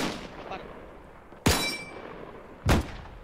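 Two loud, sharp gunshots ring out about a second apart in the tactical shooter 82AD Liberation, each a sudden blast with a short echoing tail over quiet background ambience.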